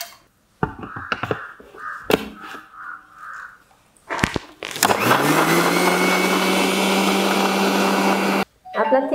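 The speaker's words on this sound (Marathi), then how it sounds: "आता आपण हे ट्रान्सफर करूया आपल्या मिक्सी जारमध्ये आणि त्याला व्यवस्थित ब्लेंड करून घेऊया" A kitchen mixer jar blends a thick chikoo shake, running as a loud, close, steady whir for about four seconds before it stops. Crow caws and handling knocks come before it.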